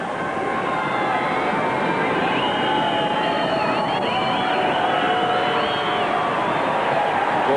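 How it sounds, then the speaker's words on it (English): A 1990 rugby league stadium crowd, Canterbury against Cronulla, forms a steady, distant murmur of many voices throughout, with a commentator talking over it. "The crowd awaits this early kick."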